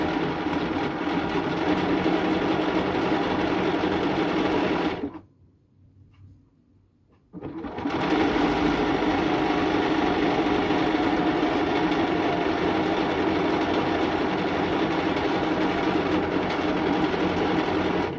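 A sewing machine stitches a T-shirt sleeve, its steady close mechanical whir running continuously, pausing for a couple of seconds, then resuming at the same rate to the end.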